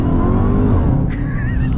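A 2023 Dodge Charger Hellcat Redeye Jailbreak with 807 horsepower accelerates, its engine roaring loud and close with a rising, rumbling tone that climbs in pitch as the throttle opens.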